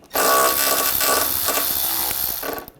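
A 7mm socket on a ratchet loosens a hose clamp fastener on a 2013–2019 Ford Escape 2.0L during AC condenser work, a rapid, close, continuous clicking whir lasting a couple of seconds.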